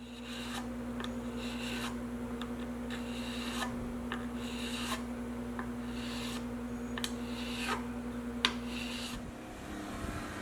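Guitar frets being leveled and recrowned with a file or abrasive, giving a steady, continuous rasping and rubbing with faint irregular scrapes over a constant low hum, close and moderately quiet.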